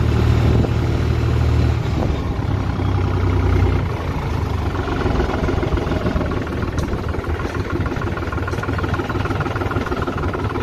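A 48-horsepower New Holland T480S tractor runs at full throttle while climbing a steep slope, a loud continuous engine drone with rattling mechanical noise that eases slightly partway through and carries on steadily.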